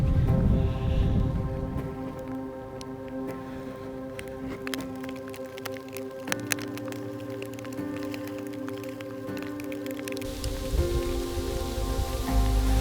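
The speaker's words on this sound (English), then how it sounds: "it looks like we're gonna get rained on here pretty quick" Steady patter of rain falling outdoors in elk-hunting country, a dense continuous wash of drops with broadband hiss, no voices.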